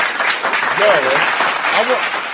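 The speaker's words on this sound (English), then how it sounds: "Give that shit a round of applause." A short burst of applause, dense and continuous clapping, with voices talking over it.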